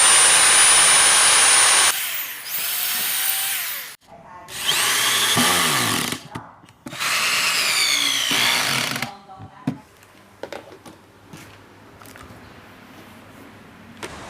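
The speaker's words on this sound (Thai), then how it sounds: "เราก็ยึดเจาะเอาเลยนะครับ" A power drill bores into wood in three loud bursts of a couple of seconds each, separated by short pauses, while building a DIY dressing-table accessory stand, then quieter handling noises follow.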